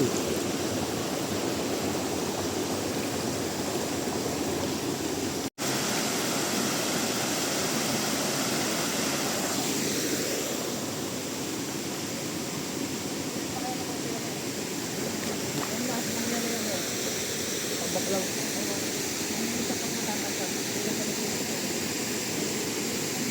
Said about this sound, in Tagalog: Ito yung falls.